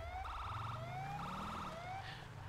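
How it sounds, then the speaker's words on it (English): A police car siren in GTA 5 wails in repeating rising sweeps with a pulsing electronic tone, steady and fairly close, with no voices. "You can turn on your lights and sirens"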